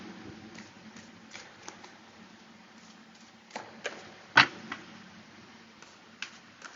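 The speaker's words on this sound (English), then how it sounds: "Couple more shuffles and we're ready to go." Soft riffling and light taps of tarot cards being shuffled, quiet and close, with a few sharper snaps scattered through.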